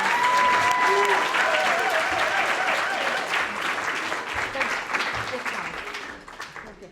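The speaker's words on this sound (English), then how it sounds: "Can we give everybody another round of applause?" Church congregation applauding after singing at a live-streamed service, a full burst of clapping that slowly thins and fades toward the end, with voices mixed in under the claps.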